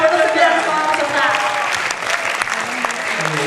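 Loud audience applause at an Indonesian student film awards night, a dense wash of clapping mixed with crowd voices and some cheering throughout the short stretch.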